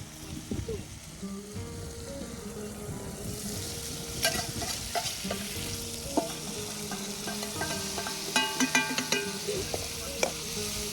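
Spice mix stirred into onions frying in a pan for dahi raita, with a steady close sizzle under repeated scraping and clinking strokes of the spoon against the pan.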